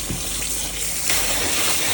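Tap water gushes steadily into a bowl of vegetables with baking soda for washing, a loud continuous splashing rush that grows fuller partway through.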